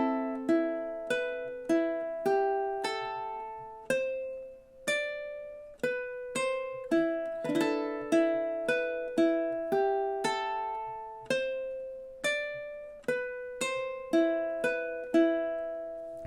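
A ukulele plucks the Exorcist theme as a clear sequence of bright, decaying single notes and chords in steady rhythm, played close and alone with no voices.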